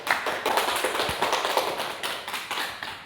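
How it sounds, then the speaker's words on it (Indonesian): A classroom group claps for Siska's team after a maths lesson on limits, the applause a steady, dense patter of many hands lasting throughout, fairly close and moderately loud with no talk over it. "Beri aplaus untuk timnya Siska"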